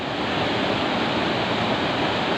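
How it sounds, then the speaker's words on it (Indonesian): River water rushing steadily at Riseh Sawang in North Aceh, a broad, continuous roar of flowing current that stays loud and unbroken throughout, with no voices. "Inilah sungai yang banyak dikunjungi oleh warga-warga sekitarnya."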